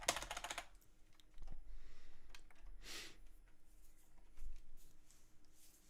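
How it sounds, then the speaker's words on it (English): Computer keyboard keys, arrow keys among them, are tapped while texturing and rendering models in a live stream, sounding as a few quiet, sparse clicks that stand alone without speech. "use your arrow keys left and right"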